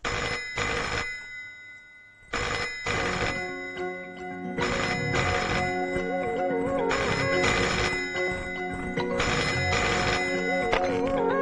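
A telephone rings loudly in repeated double bursts with short gaps between them, steady and close, with no voices.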